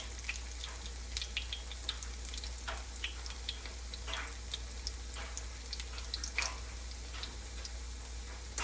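Potato pancakes fry in a pan with a steady, fine crackle and spitting. Scattered sharper pops rise above the even sizzle throughout, close and moderately quiet, with no voices.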